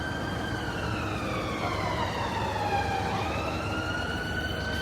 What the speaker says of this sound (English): oh no, we got an ambulance.